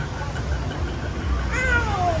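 A cat meows once, a rising then falling cry, over a steady low rumble of background noise and engine-like hum.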